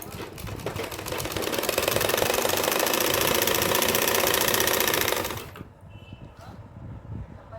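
A sewing machine runs steadily, stitching along the edge of fabric for a doll dress, then stops abruptly and leaves a quiet room.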